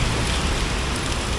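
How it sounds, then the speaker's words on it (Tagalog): Sudden heavy rain pours down in a dense, continuous hiss and patter on surfaces, loud and close, with no talking. "biglang umulan."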